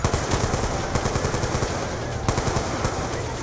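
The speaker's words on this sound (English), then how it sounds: "God, this gun has such a meaty, satisfying sound to it." Rapid automatic weapon fire from a gun in the Black Ops 2 campaign, steady loud bursts of closely spaced shots with a couple of sharper cracks standing out, no talking over it.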